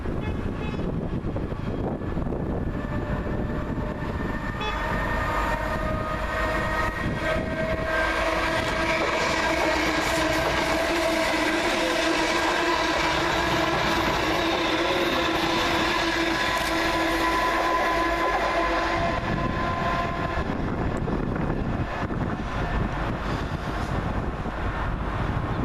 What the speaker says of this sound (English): Next to pass through the station, 317341 and 317506, working 2 Sierra 40 from Stratford to Bishop's Stortford.